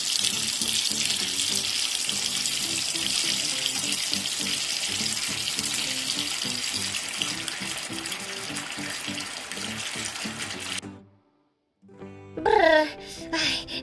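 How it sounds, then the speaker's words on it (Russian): A shower runs with a steady, hissing spray of water that holds constant, then cuts off abruptly near the end, followed by a brief vocal sound. "Бррр, ай, бодрит холодный душ, вроде проснулась."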